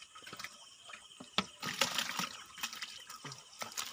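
Water being poured and splashing while catching fish from a drained pond at night, soft irregular trickles and splashes at moderate distance with faint rustling.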